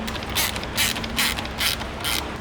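A hand ratchet tightens splitter kit bolts on a Kia Cerato GT sedan, close and loud, with about five quick bursts of rapid clicking pawl strokes in a steady rhythm.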